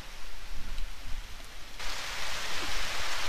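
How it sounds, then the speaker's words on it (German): Steady hiss of rain in the video game Harvest Moon: Back to Nature, soft at first and then swelling into a heavier, even downpour that continues to the end. "und es regnet schon wieder"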